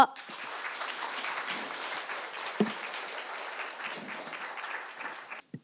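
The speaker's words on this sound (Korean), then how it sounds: "뜨거운 박수로 맞아주십시오" Steady applause from an audience welcoming a speaker at a political talk, a dense wash of clapping lasting several seconds before tapering off.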